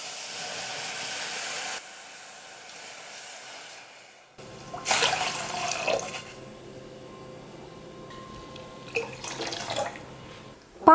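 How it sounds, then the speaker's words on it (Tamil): Water runs from a tap, then splashes and pours into a pan for cooking semolina payasam, with a hollow, rising gurgle, interrupted briefly before resuming. "அதனால் தண்ணி சேர்த்துக்கிறேன்."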